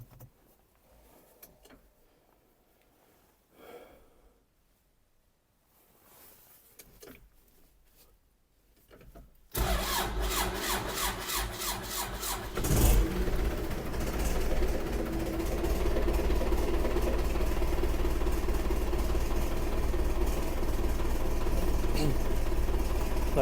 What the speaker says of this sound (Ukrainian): Ну, Мотор завівся нормальненько.